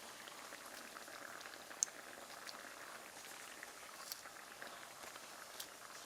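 A braised cutlassfish and radish stew simmers in a pot with a soft, continuous bubbling and occasional faint pops, quiet and close.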